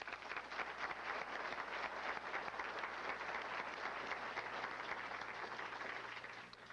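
Steady, dense applause from a banquet audience at an athletic hall of fame ceremony in a hotel, honoring the hotel manager and staff; sustained clapping throughout at an even level, fading slightly at the end.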